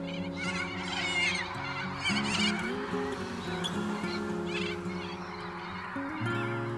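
A flock of birds honks and calls continuously, many overlapping voices forming a steady noisy chorus, fairly close.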